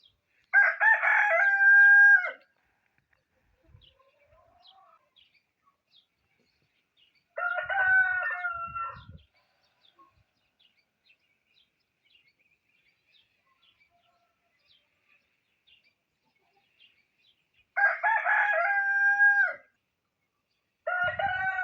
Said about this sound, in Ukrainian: Кури під горіхом ховаються.